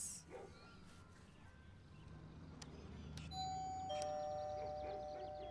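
A doorbell chimes at a small house in a film, clear sustained tones entering midway over a low background hum.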